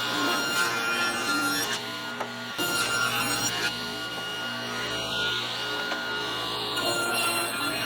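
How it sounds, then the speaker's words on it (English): Table saw ripping through maple boards in a woodshop, a steady close mechanical whine with blade hum running continuously for several seconds, dipping briefly between cuts. "So let me make some cuts on the table saw"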